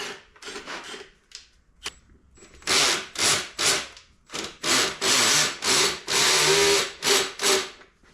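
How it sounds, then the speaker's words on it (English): A power drill whirs in a series of short, loud bursts, turning over a Honda CT70 engine with a rough, grinding rhythm, close up. "I'm just going to turn this over with a drill"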